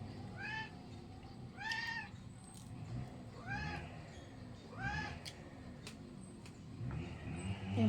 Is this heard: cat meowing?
yes